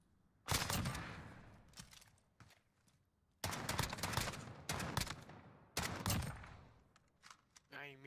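Heavy shotgun blasts in a video game, a few loud booming shots spaced a second or two apart, each followed by a decaying rumble, with quieter movement between them.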